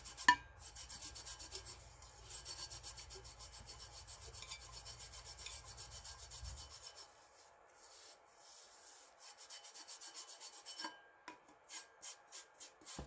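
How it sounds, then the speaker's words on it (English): Dry brush rubbing loose glitter off a glitter-coated tumbler, a steady close scratchy brushing in quick repeated strokes, then short separate swipes toward the end, with no talking. "So after each layer of glitter, once that dries, I dry brush it off."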